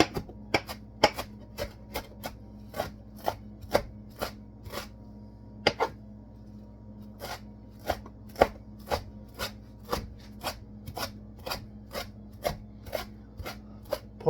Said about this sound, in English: mince the parsley a little finer, so I'm going to work on that tonight